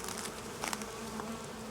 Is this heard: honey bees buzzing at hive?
yes